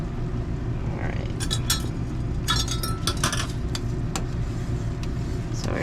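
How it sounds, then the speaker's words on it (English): Plum jam is stirred in a pot while it heats toward 220 degrees, giving scattered light clinks and scrapes of a utensil against the pot over a steady low rumble in the background. "We're going to keep stirring and let it come up to a temperature of 220."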